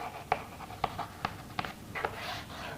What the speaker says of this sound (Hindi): देखो मैं एक एग्जाम्पल लिखता हूँ